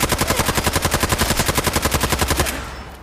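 Video game gunfire in Fallout 4 rattles as a rapid, loud automatic burst of evenly spaced shots for about two and a half seconds, then cuts off.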